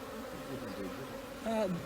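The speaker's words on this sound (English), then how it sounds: "A few bees wandering around" Honeybees hum around an opened hive during beekeeper training, a faint, steady low buzz with a brief louder pitched pass as one flies near the end.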